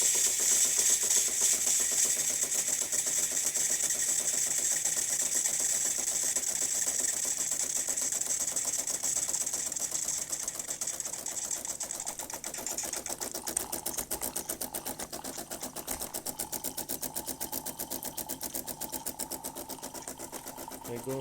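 A freshly serviced De'Longhi Impressa F7 coffee machine runs with a close, rapid mechanical whirring and rattling, steady and fairly loud at first, then settling into a slightly quieter buzz toward the end.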